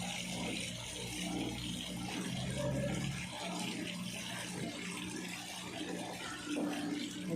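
Water from a natural spring runs out in a steady, continuous gush, turning muddy as the clear water drains away; the flow stays fairly even throughout at a moderate level.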